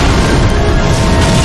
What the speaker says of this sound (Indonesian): terjadi ledakan